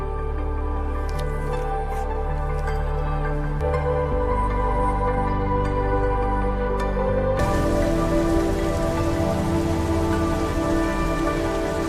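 Steady rain pours continuously on a city street outside a restaurant, a dense hiss of drops and splashes with constant loudness and no voices.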